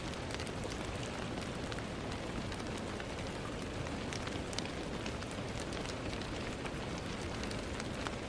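Steady rain falls continuously, a soft, even hiss with scattered sharper droplet ticks throughout, faint and distant with no voices.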